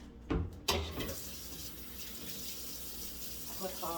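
Hot water runs from a kitchen tap into a sink, a steady close hiss and splash after a couple of sharp knocks at the start, with a faint clatter near the end.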